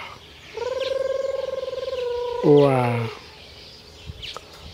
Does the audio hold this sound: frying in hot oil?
no